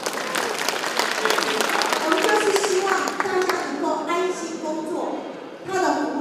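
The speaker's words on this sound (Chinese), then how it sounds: "这样要不要给这位掌声一下？" Audience at a Hualien County government staff event breaks into dense, sustained applause. Many hands clap close and loud for about six seconds before the clapping starts thinning out near the end.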